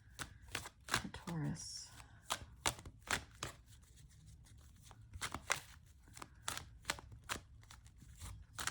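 Tarot cards from a Wisdom deck being shuffled by hand in crisp, irregular riffs and taps, close and quiet, with someone talking softly between the shuffles.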